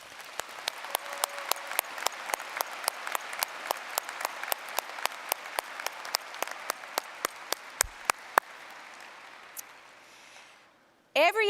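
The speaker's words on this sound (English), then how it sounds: "please join me in giving these exemplary faculty a round of applause" Sustained audience applause at a college commencement ceremony, a dense wash of many hands with some sharp close claps standing out, fading near the end before a voice begins.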